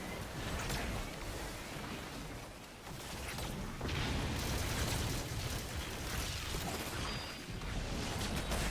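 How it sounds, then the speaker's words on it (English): A bomb goes off in a video game, a long roaring blast with crashing, rumbling debris that swells and surges across several seconds, fairly quiet overall and with no voices. "It was a bomb."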